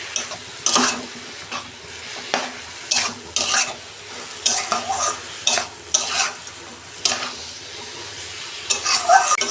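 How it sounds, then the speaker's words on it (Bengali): Leafy greens fry with a soft sizzle in a pan for shaak bhaja while a metal spatula stirs and scrapes them in regular, rhythmic bursts, clanking against the pan at close range, with no voices. "শাকটা আমি 5 মিনিট একটু নেড়ে চেড়ে ভাজা করব ভালো করে"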